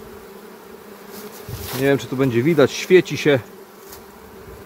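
Honey bees buzz steadily around a low-frame hive with full nests as they bring in nectar, a close, constant hum running beneath someone speaking Polish.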